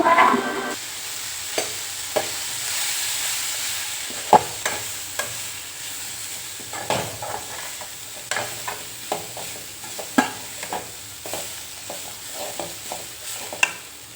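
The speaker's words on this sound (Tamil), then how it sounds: "தேங்காய் வந்து சேர்த்துக்க அப்புறமா நல்லா ஒரு நிமிஷத்துக்கு நல்லா வந்து வதக்கி விட்டுடலாம்" Grated coconut sautéing in a pan over a low flame for a kuzhambu: a soft continuous sizzle with frequent sharp scrapes and taps of a stirring spoon, close up.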